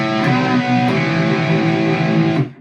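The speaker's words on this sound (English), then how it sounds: "So the opening riff sounds like this." A song's opening riff played slowly on a distorted electric guitar: sustained, heavily driven chords ringing loud and close, with a few picked accents before the final chord is cut off.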